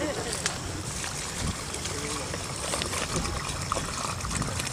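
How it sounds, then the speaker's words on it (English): Water poured into a dug trench hole for a soil percolation test, a continuous close gush and trickle with faint splashing, heard steadily throughout. "We're going to fill up our hole up to our marker."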